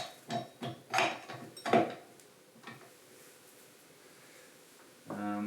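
A stand mixer's dough hook is fetched and fitted: a quick run of metallic clicks and clanks up front, then a quiet pause before a louder clatter at the end.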